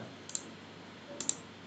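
A computer mouse gives a quick double right-click in CAD software, followed about a second later by a second pair of sharp, light clicks, close and quiet over a low hum.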